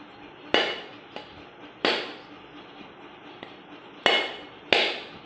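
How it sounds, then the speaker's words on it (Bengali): A whole coconut is struck repeatedly to crack it open, with four or five sharp, hard knocks spaced irregularly, each followed by a brief ring, plus softer taps in between. "এখন আমি এই নারকেলটা একটু ফাটিয়ে নেব।"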